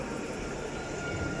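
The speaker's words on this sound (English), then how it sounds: "Working this service is tram number 225" Nottingham NET tram number 225 slowing to a stop at Basford, a steady low rumble and rolling hum heard close by, fairly constant throughout with no voices.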